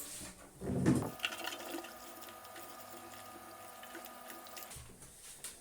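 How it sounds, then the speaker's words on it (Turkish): Cherry tomatoes are rinsed under a running kitchen tap, a steady close rush of water with a louder splashing burst near the start, then the flow cuts off. "Domatesimizi önce güzelce bir yıkayacağız arkadaşlar."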